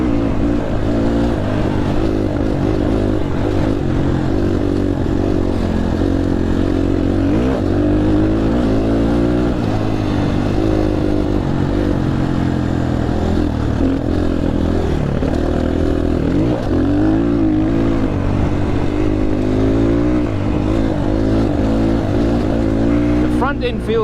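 A loud Motopro 300 motorcycle is ridden, its engine droning and revving up and down continuously up close, with rattling clatter and wind noise throughout.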